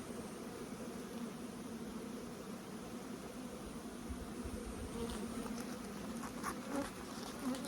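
A hive of honeybees hums in a steady, dense drone while queens are introduced during the merging of two colonies, close and continuous, with a slight swell of buzzing toward the end and no voices.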